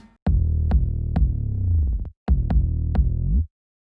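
Punchy kick drum hits layered over a booming 808 bass line in a trap beat, landing in a steady rhythm across two loud phrases with a brief gap between them, and no voices.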